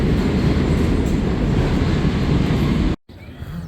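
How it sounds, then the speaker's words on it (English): A New York City subway train roars loudly and steadily with rumbling wheels, then the sound cuts out abruptly before a quieter stretch of rail noise. "Off to the subway we go."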